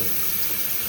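Water runs from a tap into a cooking pot in a steady, full, hissing stream that does not pause, close and fairly loud.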